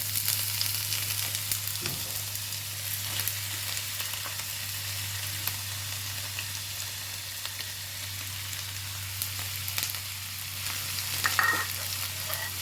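Sliced bitter gourd frying in coconut oil, a steady broadband sizzle with faint crackles and occasional stirring taps, moderately loud and continuous, with a low electrical hum underneath and no talking.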